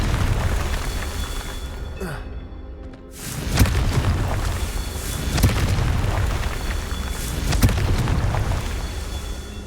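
Repeated fiery spell blasts in a Hogwarts Legacy fight, heavy booming bursts with low rumble at several points, close and loud over a steady crackling game backdrop, no talk.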